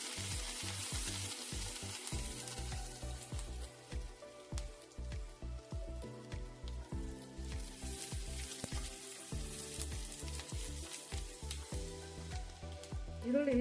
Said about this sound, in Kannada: ಇವಾಗ ಎಣ್ಣೆ ಕಾಯ್ದಿದೆ, ಒಂದು ಈರುಳ್ಳಿ ಹಾಕೊತೀನಿ ನಾನು. ಈರುಳ್ಳಿ ಸ್ವಲ್ಪ ಕೆಂಪಗಾಗಿ.